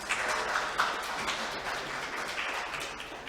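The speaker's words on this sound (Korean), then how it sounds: "소개드리면 뜨거운 박수 부탁드리겠습니다." Audience applause at a public hearing on an urban regeneration plan for Mora-dong, a steady wash of clapping from a gathered crowd held at an even level for several seconds, with no talking over it.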